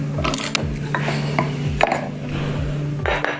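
A screwdriver turns small screws out of a metal plate on a Boosted Board electric skateboard, with close, repeated short ratcheting clicks in an irregular rhythm and no talking.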